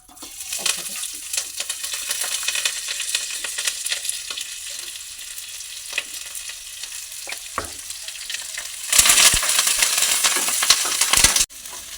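Chopped onion, green chilli and curry leaves sizzle in hot oil for an egg vegetable rice, a steady close crackle with scraping stirs and clinks, swelling into a louder burst of hissing near the end.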